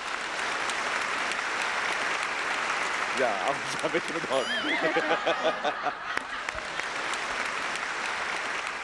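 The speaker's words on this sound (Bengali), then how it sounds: "যা ওদের জন্য একটু হাততালি হোক" A studio audience on the Bengali comedy show Mirakkel Akkel Challenger applauds the props team, with steady clapping swelling under a voice and some light laughter.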